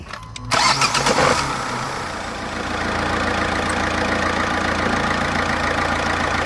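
An Opel Corsa C with a burst high pressure power steering hose cranks briefly, then its engine catches and settles into a steady, close idle, with no talking over it.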